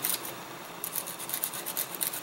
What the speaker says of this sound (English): It's simply just going to be quick sanding